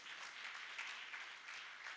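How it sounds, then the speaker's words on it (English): Applause from an audience in a hall during a religious gathering, a steady, fairly faint patter of clapping that holds evenly for two seconds without any voice over it. "round of applause for"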